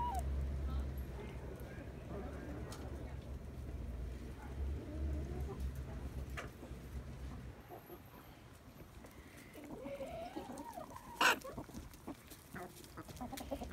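Backyard chickens clucking softly in short, scattered calls at low volume, with people talking nearby and a brief louder sound near the end.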